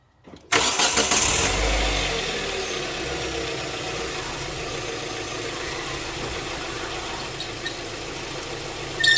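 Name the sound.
car engine starting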